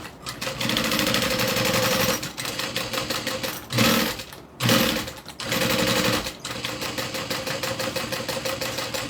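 A sewing machine runs a top stitch on a backpack, its needle hammering in a fast, steady rattle through long bursts, with brief pauses and a couple of short restarts, close and loud.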